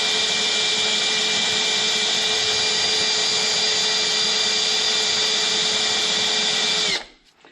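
An electric drill whines at a steady high pitch, spinning against a seized screw head on a Rover P4 quarter light vent, loud and close, running unbroken before stopping abruptly.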